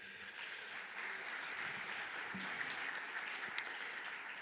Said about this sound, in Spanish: Un aplauso para Heinz.